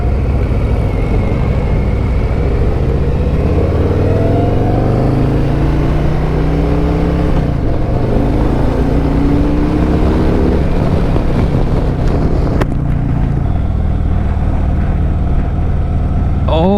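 A 2024 Harley-Davidson Fat Boy's 114 cubic-inch engine rumbles and revs on the road, the pitch rising and falling in several sweeps, loud and close with wind buffeting.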